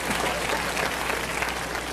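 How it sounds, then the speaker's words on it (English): An audience at a motivational speaking event applauds, a dense, steady wash of clapping from a large crowd throughout. "You applaud for them, huh?"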